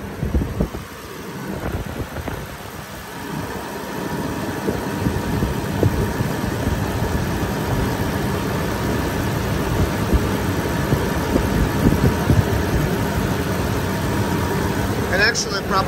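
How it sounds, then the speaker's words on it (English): A Range Rover Sport HSE with a 4.4 V8 idles with the hood open, a steady low hum and whir beneath a man's speech. "Let's take a look, listen to the engine,"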